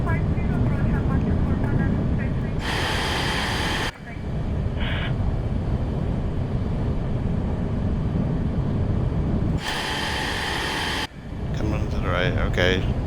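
Steady roar of F-35 jets flying in formation near an aircraft carrier, broad engine and wind noise throughout, with short radio-voice bursts breaking in twice over the drone.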